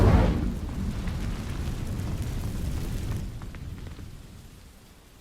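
An Incendio fire spell in Hogwarts Legacy sets dry vines ablaze: a loud whooshing burst that settles into a steady roaring crackle of flames, slowly fading away.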